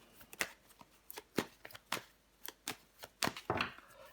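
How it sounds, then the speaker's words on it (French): Tarot cards laid out and handled on a table: a quick series of close, soft slaps and flicks at an irregular rhythm, quiet and without talk. "je recouvre des cartes pour vous les Gémeaux"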